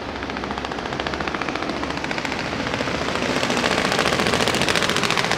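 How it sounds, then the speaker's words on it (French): A rapid, continuous stream of sharp pops and crackles from an Alfa Romeo Quadrifoglio exhaust at the Daikoku car meet in Japan, steady and loud, building slightly over several seconds like a fast rattle. "Ça c'est du pop and bang."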